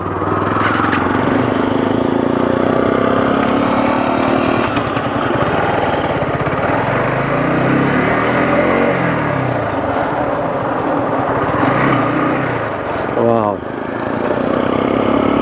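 A motorbike riding along a hill road between Bandarban and Kaptai, its engine droning loudly and steadily up close with wind noise, the pitch rising and falling with the throttle for the whole stretch.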